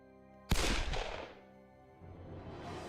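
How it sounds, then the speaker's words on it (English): A single loud gunshot cracks from the Hakuouki video game, sharp and sudden, then decays into a long rumbling echo over low background music. "A gunshot resounded again."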